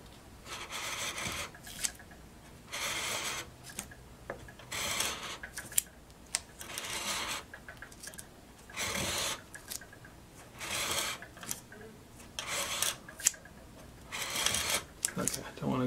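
A glass bottle is scored all the way around with a cutter, producing a series of short, close, scratchy rasping bursts in an uneven rhythm as it is turned, with brief quiet gaps between them.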